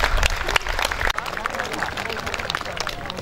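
Men in the audience clapping at a university new-student orientation opening, dense steady applause mixed with crowd chatter and a voice speaking over it.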